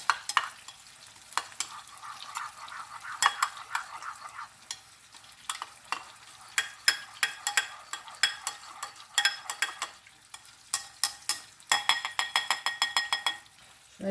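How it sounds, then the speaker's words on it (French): A spoon stirs water into leftover sauce in a frying pan, with a soft sizzle underneath. It clinks and scrapes repeatedly against the pan, close and irregular, with a quicker flurry of taps near the end. "Et je vais mélanger avec le reste de sauce."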